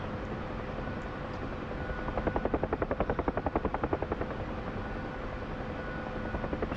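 Rhythmic blade chop of a small model Huey helicopter builds to a steady, moderately loud pulsing from the middle of the clip, then fades back toward a droning background.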